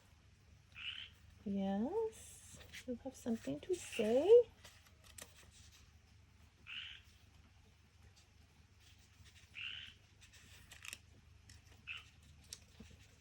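A frog croaks in short bursts near the start and again several times later, fairly faint, while someone speaks softly over part of it during light rain.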